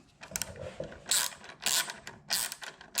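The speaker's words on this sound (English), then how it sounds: "we are going to go ahead and tighten these up" A ratchet clicks in several short, quick bursts as bolts are tightened on a Touratech headlight guard for a 2022 Triumph Tiger 900, close up with brief pauses between strokes.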